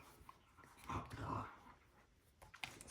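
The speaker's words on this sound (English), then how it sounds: "Sorry if you can hear my dogs in the background." Several dogs whimper and whine softly in the background indoors, faint and intermittent, with brief louder whines in the middle and near the end.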